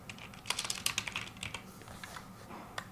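Fast bursts of typing on a computer keyboard at a PC, a quick run of clustered key clicks followed by a few sparser taps, close and fairly quiet with no talking.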